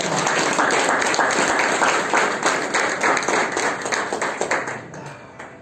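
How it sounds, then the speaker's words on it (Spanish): A church congregation claps together during a Spanish-language service, a dense, loud wash of applause that holds steady and then slowly tapers off at the end, with no talk over it. "Denle un aplauso al Señor."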